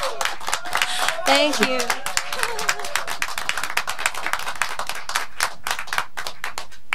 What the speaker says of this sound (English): please, a great applause for Caroline Spence